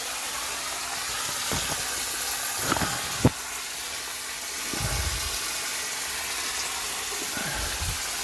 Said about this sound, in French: Et là, je suis en train d'inonder la serre. Alors, un coup d'humidité pour l'hiver.